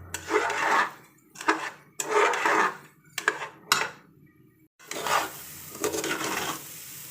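Rice frying in a pot for akhni pulao is stirred with a wooden spoon in repeated scraping bursts with short pauses between them, alongside a soft sizzle, loud and close.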